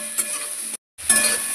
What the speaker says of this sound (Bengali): ভাজা ভাজা হয়ে যাচ্ছে।